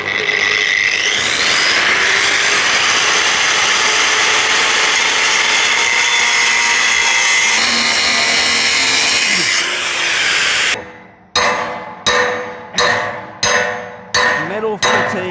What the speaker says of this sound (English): with this depth machine, I'm going to cut where I've marked for the skid.